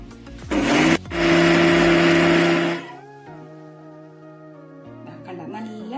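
A mixer grinder whirs loudly as it grinds theeyal paste, starting with a brief burst, pausing, then running steadily for about two seconds before shutting off and spinning down, with a faint tonal hum trailing after.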